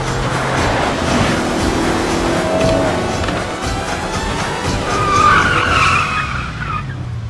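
A car skids hard while being driven in a Hindi action film scene, a loud, sustained tyre screech lasting several seconds with engine roar beneath it and no talking.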